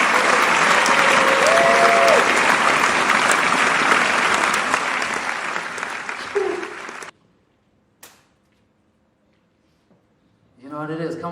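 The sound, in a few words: audience applause for a hip-hop artist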